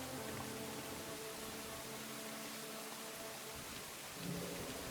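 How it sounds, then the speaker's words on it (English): Steady heavy rain in a video game pours continuously while low thunder rumbles underneath, swelling again near the end. "The rain gets louder."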